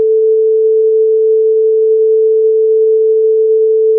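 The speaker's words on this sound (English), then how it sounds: "The frequency of first sound wave is 440. The frequency of second sound wave is also 440." Two 440 Hz sine tones at exactly the same frequency sound together as a single pure, steady, loud tone with no beating, unbroken throughout.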